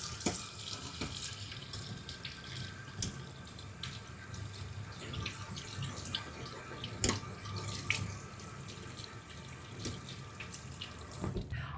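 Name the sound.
tap water rinsing black beans in strainer in sink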